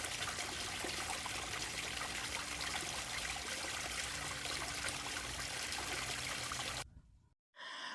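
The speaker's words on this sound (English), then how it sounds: "now the little waterfall is running clear" Water from a small garden pond waterfall splashes and trickles steadily, a close constant rush that cuts off abruptly near the end.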